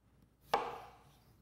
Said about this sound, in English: After the sample has been extruded, split the sample with your knife.